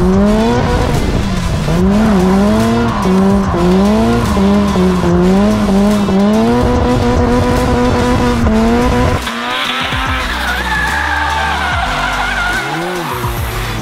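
A Mazda MX-5 drift car with an anti-roll bar fitted revs hard in a steady wavering engine whine while its tires squeal and skid continuously, loud and close, before the engine note drops and the car slows toward the end.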